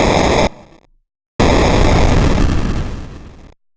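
Bitcrushed spell blast sound effect: a loud, harsh, gritty burst that cuts off abruptly, then after a short silence a second crunchy, noisy blast that decays and stops.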